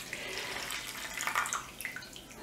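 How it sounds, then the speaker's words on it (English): Milk flavoured with a bay leaf and grated nutmeg is poured into a buttered oven-proof dish, giving a soft continuous splashing trickle that brightens briefly midway. "I'm just pouring that into an oven-proof buttered dish"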